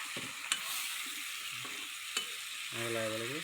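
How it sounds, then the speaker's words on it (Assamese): Fish coated in spices being stirred in a frying pan, a steady sizzle with a few sharp scraping knocks of the utensil against the pan, close and alone. "এতিয়া মই অলপমান লাৰি দিম এনেকৈ"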